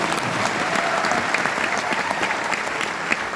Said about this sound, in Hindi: इसमें ताली जरा जोर से बजाओ।